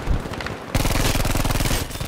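The Type 2A submachine gun in Battlefield V, firing one sustained rapid burst of over 1000 rounds per minute after a brief lead-in, loud, close and continuous for more than a second.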